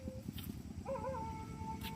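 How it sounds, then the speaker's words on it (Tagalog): A dog howls in the distance, a long wavering cry rising and holding, over steady low outdoor background noise. "Ayun, may mga nag-aalulong na aso."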